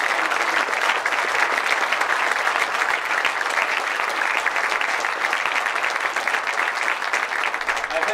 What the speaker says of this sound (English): How about a huge round of applause for the family?